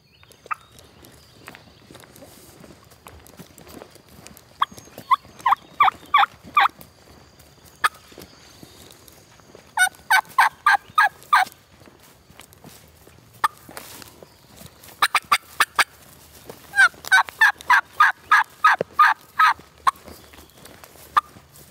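Wild turkey gobblers in the South Alabama woods on a spring hunting morning, gobbling in repeated bursts: several rattling calls that rise and fall, clustered and fairly close, over a quiet background with soft rustles in between.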